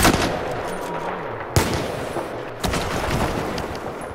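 Gunfire in the Battlefield 4 video game while sniping: a steady crackle of distant shots with two sharper, louder reports standing out, all heard without any talking.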